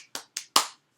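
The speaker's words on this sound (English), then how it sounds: "Give yourselves a round of applause." Three sharp, separate claps from children at a classroom morning meeting, sounding close and crisp, with short gaps between them and the last one the loudest.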